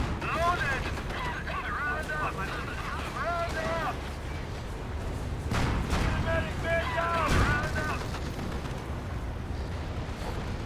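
Calliope rocket artillery barrage in Company of Heroes, a rumbling roll of distant blasts and whooshes under the battle din, with someone talking over it.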